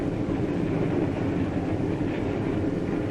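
A passenger train rolls along tracks heading out of town toward the main line, a continuous loud rumble of wheels and carriages with no breaks, heard close and alone.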